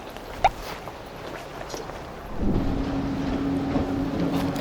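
Wind buffets a sea cliff at Udo during a fishing trip, starting faint with a brief knock, then swelling about halfway into a steady, rough wind roar against the microphone with a low hum.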